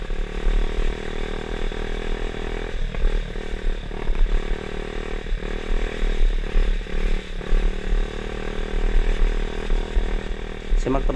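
An RXF 50cc mini trail motorbike's small engine revs and buzzes continuously up close on a quiet rural road, with throttle blips and mechanical clatter.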